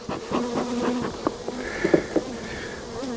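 Agitated honey bees buzz around an open hive, a close, wavering drone with individual bees zipping loudly past, rising and falling in pitch against a steady background hum.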